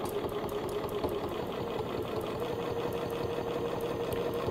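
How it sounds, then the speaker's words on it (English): A sewing machine stitching a quilt along a straight ruler, its rapid, even mechanical chatter running steadily and close throughout with no pauses. "I'm just holding the thread tails with my finger as I start to stitch to secure them"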